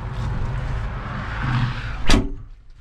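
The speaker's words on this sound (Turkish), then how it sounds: "Ben kapıyı da çekeyim." The cab door of a Massey Ferguson 7715 Dyna6 tractor, a six-cylinder 150-horsepower machine, is pulled shut with one sharp, close thud. It follows a low background rumble, and the cab goes quieter afterward.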